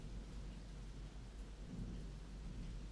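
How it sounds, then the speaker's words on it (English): Rain and rolling thunder from a thunderstorm outside a room, a steady low rumble with dense rain hiss throughout, fairly faint and continuous with no voices. "Are you hearing like some thunderstorm"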